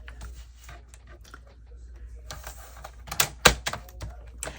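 Paper pages for a journal are trimmed to 5 1/4 inches with a series of soft clicks and thunks, quiet at first and building to a few sharper knocks near the end.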